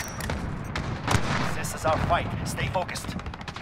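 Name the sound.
gunfire in video game Call of Duty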